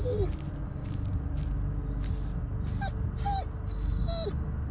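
Faint, high whimpers and yips from Bullet the dog in the video game Blair Witch, several short rising and falling whines spread across a steady low rumbling ambience, with no talk.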